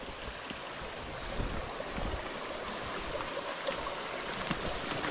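Spring water flows and splashes steadily at close range outdoors, a continuous broadband rush with no talking.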